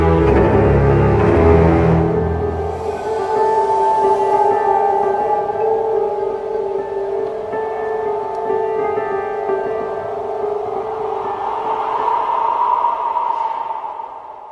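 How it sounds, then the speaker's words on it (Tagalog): Eerie, drawn-out wailing cry of an aswang used as a horror story sound effect, a siren-like tone swelling and sagging over a low rumble, loud and sustained with no speech. "Ito ay ang huni ng aswang."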